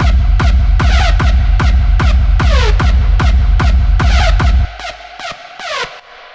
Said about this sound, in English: this kind of ravey, screech, hovering sound that sounds like this